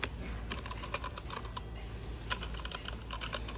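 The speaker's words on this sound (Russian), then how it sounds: "Звук у него хороший прям. У клавиатуры." Rapid clicking keystrokes on a mechanical gaming keyboard, a steady stream of sharp taps close up with no talking.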